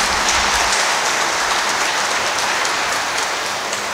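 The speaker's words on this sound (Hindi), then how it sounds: "हम लोग ताली मार करके उन्हें नए जीवन की बधाई दें।" Wedding guests applaud the newlyweds Ajay and Deepali, a dense, steady patter of clapping that runs evenly from start to finish without a pause.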